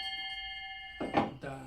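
A Russian troika podduzhny harness bell rings with a steady, sustained metallic tone that holds for about a second. A voice then begins speaking over it.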